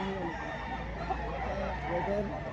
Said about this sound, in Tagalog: napakagandang manok. Magulang na manok.